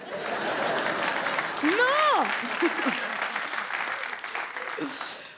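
Steady applause from an audience fills the clip, with a voice speaking over it partway through.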